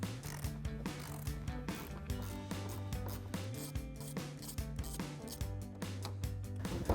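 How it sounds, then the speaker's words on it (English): A ratcheting tool backs out T15 Torx screws from the rear side marker of a 2016-2023 Chevrolet Camaro, a quiet steady run of rapid clicking under a background music track. "So now we can take our T15 Torx bit to remove these 2 screws."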